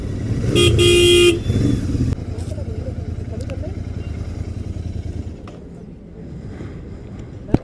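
A Royal Enfield Continental GT 650 motorcycle rides along a road at night, its engine droning with a steady pulse, and a loud horn honks near the start.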